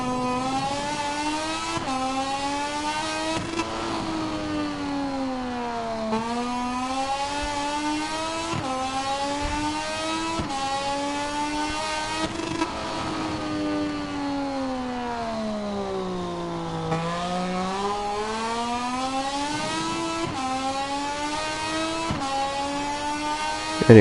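Continuous high-revving Moto2 racing motorcycle engine from a video game, rising and falling in pitch through gear changes across a timed lap, loud and alone without talk.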